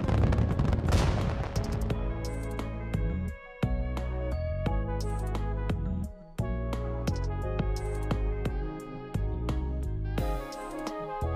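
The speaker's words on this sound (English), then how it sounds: "So, these were ground fireworks?" Ground fireworks in the Aether Gazer video game pop in a rapid series of sharp, loud bangs and crackles, cutting through a backdrop of tonal game music.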